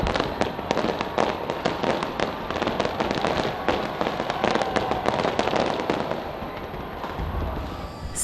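New Year fireworks burst over the Sky Tower in Auckland as dense, continuous crackling and popping, loud and close, with rapid overlapping bangs throughout.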